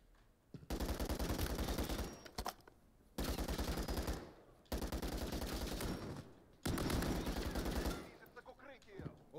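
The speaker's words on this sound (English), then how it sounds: "Looks like we got a turret or something." An automated turret in Call of Duty: Modern Warfare 3 fires machine-gun bursts, four long sustained volleys separated by short pauses, loud and close, with brief game sounds between them.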